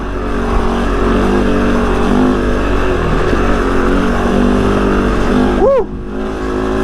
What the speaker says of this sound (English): Once the revs are up, the engine actually sounds pretty good.